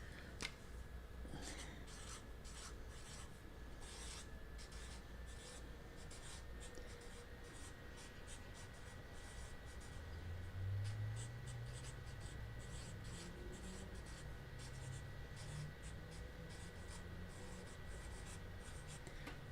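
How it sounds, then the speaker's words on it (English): Pen writing by hand on paper during a Hamilton collectible listing, a steady run of close scratchy strokes and taps over about twenty seconds with no talking. "Let me write this out"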